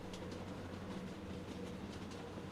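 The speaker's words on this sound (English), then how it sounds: "Fawkes, you hear the train speeding up behind you" Steady rumbling train noise with faint repetitive clacking of wheels on rails, a continuous moderately distant roar without any voices.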